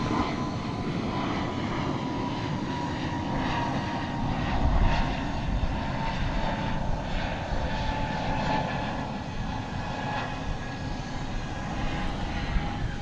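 An airliner departing DFW Airport sends a steady, broad engine roar across the field at constant loudness for the whole stretch, with no voices.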